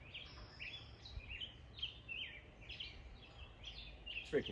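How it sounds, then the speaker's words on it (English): Several birds chirp outdoors, with short high tweets and calls repeating every half second or so over a soft ambient background, fairly faint and a little distant. "The birds are chirping today."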